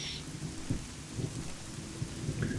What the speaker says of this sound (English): Really nice rain effect